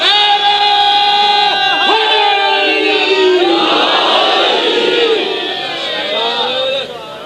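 A large crowd at a majlis roars out slogans in unison, loud, sustained massed voices swelling and surging together, dense and close before easing slightly near the end.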